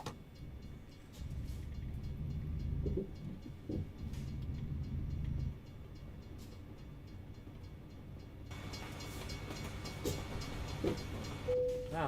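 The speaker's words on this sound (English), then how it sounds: "Wow, that train's really long by the sounds of it." A long train rolls steadily past in American Truck Simulator, a continuous low rumble of rail cars lasting many seconds, with a brief higher tone near the end.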